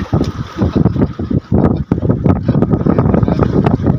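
Big ocean waves hit a small boat at sea, making choppy bursts of splashing and slapping water with heavy wind buffeting the microphone, close and loud.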